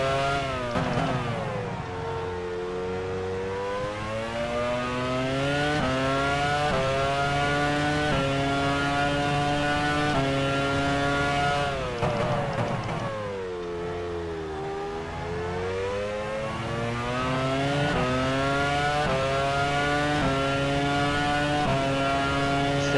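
Formula One race car engines from the game F1 Challenge '99-02, a loud high-pitched engine whining and climbing through gear shifts, dipping as it slows, then rising again in long sweeping revs.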